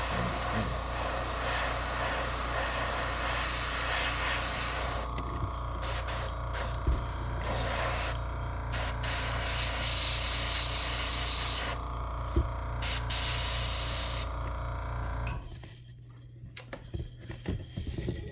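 An airbrush sprays paint onto a crankbait fishing lure with a steady, close hiss, broken by several short pauses as the trigger is released, then stopping near the end.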